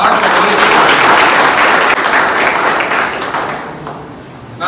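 A crowd at a BJP political rally in Tamil Nadu bursts into loud, dense applause that holds steady and then slowly thins out toward the end.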